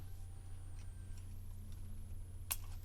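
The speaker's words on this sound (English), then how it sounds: "Scissors will work." Scissors cut through the thin wires of an automatic card shuffler's motor, giving one sharp, close snip near the end over a steady low electrical hum.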